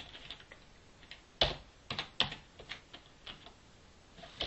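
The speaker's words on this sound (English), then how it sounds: "So I think if we type in a random IP address here," Keys clatter on a computer keyboard as an IP address is typed, a run of crisp, irregular clicks with a few louder strokes, close and alone with no talk.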